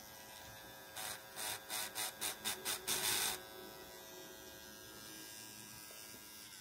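A Chinese-made tattoo machine, Dragonhawk Extreme or Raven type, runs at setting 7 with a steady electric buzzing drone, pulsing in short bursts for a couple of seconds before settling into a continuous quieter hum; no speech.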